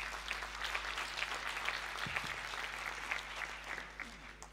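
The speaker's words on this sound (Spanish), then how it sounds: "Un aplauso." Applause from a crowd, a steady wash of clapping that goes on throughout at a moderate distance, with no speech over it.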